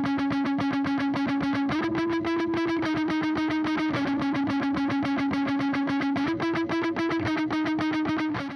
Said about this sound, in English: listen to it by itself without any of the delay or reverb effects on it